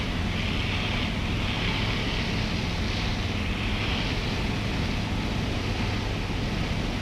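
A small airplane in flight near Williamstown gives a steady, unbroken engine drone with rushing wind noise, heard loud and constant from inside the cabin.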